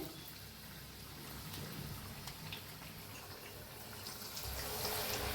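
Eggs for egg bhaji fritters are dropped into hot oil and fry with a soft, continuous sizzling hiss that swells slightly toward the end, quiet and close.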